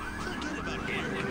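Car alarm in the video game GTA III: a rapid, repeating electronic wail cycling continuously amid dense street and engine noise, moderately loud throughout.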